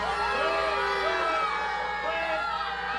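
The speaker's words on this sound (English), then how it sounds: "the crowd tells Frankie Gamboa to go back where he came from" A wrestling crowd at a Slam U Superhero Saturday show loudly jeers Frankie Gamboa, a sustained mass of shouting and whistling voices filling the hall, with a commentator talking over it.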